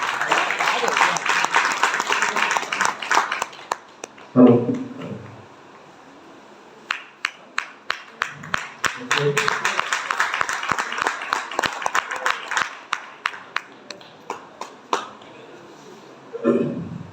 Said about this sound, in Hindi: तब तक जोरदार तालियां बजा रहे हैं लोग